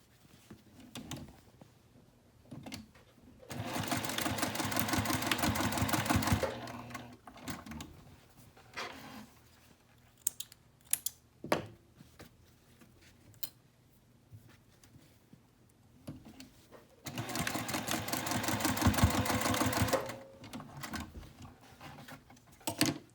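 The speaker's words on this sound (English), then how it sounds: "we're going to go ahead and sew the darts on our front main body exterior and liner" A sewing machine stitches darts on a sling's fabric body and liner in two bursts of fast, even whirring a few seconds long, separated by quieter handling clicks and fabric rustles.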